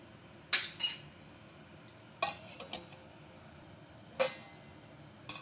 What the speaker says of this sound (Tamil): நம்ம சேர்த்து கலக்கி விட்டுருவோமே பாருங்கள் நல்லா கலக்கி விட்டு ஒரு மூடி போட்டுருவோம்